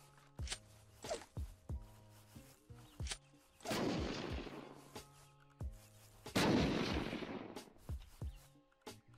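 A grenade blast in the Unturned video game sounds as two heavy rumbling booms that roll out for a second or more, set among scattered nearby gunshots and thuds.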